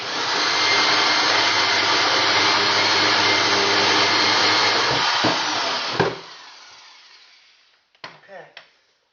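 A powerful right-angle drill bores a hole through wood for electrical wiring, a loud, continuous whine and grinding for about six seconds before it cuts out, followed by a few brief knocks.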